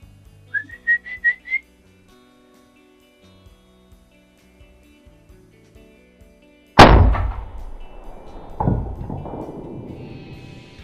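Several short rising whistles aimed at a whitetail deer during a Texas hunt, then after a quiet pause a single loud, booming .450 rifle shot that echoes and rumbles away, with a fainter thump following.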